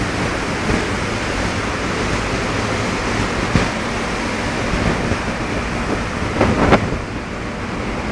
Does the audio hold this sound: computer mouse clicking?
no